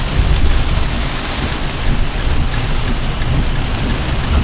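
Heavy rain pours down steadily on a car stopped during a drive along the coast of Sardinia, a dense, loud, continuous hiss and drumming close around the vehicle with no voices.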